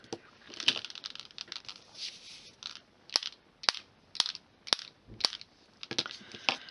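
A Wink of Stella glitter brush pen is primed with a series of sharp, dry clicks. About eight or nine snappy taps come close to the microphone at irregular intervals, with faint rustling between them and no voices.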